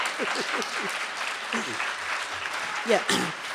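Lecture audience breaking into applause, a broad wash of clapping filling the clip while a speaker's voice continues over it, with a brief vocal swell near the end.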